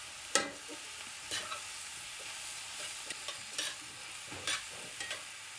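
Mushrooms frying in butter and olive oil in a pan, a soft continuous sizzle broken by several sharp scraping stirs of a utensil against the pan, with no one talking.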